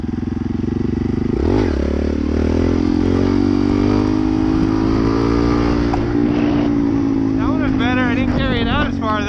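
A Honda Grom motorcycle's small engine runs close by, rising and falling as it revs through gears, with a person talking over it.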